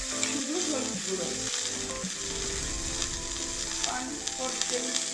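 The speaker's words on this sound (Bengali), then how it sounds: "এবার ভালো করে আমি ভেজে নেব আলু আর ফুলকপি একসঙ্গে।" Potatoes and cauliflower fry together in a pan with turmeric, giving a steady close sizzle with scraping and clinking of a spatula throughout.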